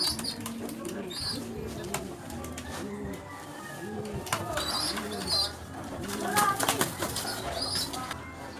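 Young pigeons kept by a fancier coo repeatedly in soft, rolling calls, with occasional wing flaps and faint chirps; someone talks intermittently over the birds.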